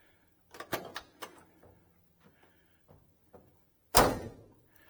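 A 1969 Oldsmobile 442 passenger door snaps shut with one loud, solid slam near the end, after a few lighter clunks and handling noises from the latch and door.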